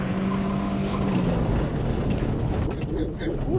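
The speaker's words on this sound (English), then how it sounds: "Now we're gonna do some hot laps in the X-Trail" Nissan X-Trail lapping a homemade dirt race track, its engine droning steadily and loud throughout with a wavering revving tone, while people talk over it.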